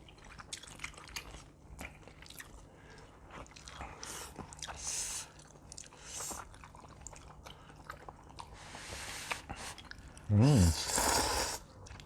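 Spam eaten during a ramen mukbang, with close, wet biting and chewing sounds and small squishes throughout, and a short voice breaking in near the end.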